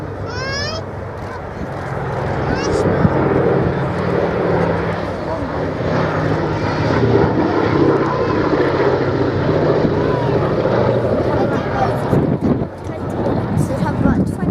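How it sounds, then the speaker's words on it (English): A heavy propeller bomber flying at the Biggin Hill Airshow, a loud sustained droning roar with wind buffeting the microphone and a commentator talking over it. "Heavy bomber such as this in private hands really is quite an undertaking,"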